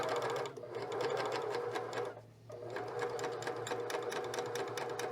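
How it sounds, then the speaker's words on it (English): A sewing machine stitches steadily through a thick layer of fabric with the presser foot down, giving a loud, close, rapid mechanical whir that briefly slows and dips in the middle before running on. "let's put the presser foot on that thickness to help it guide through there"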